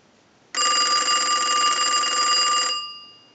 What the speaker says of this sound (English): we'll use the analyzer and we'll ring our telephone